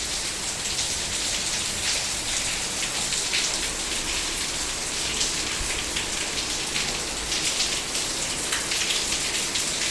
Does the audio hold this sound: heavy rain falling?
yes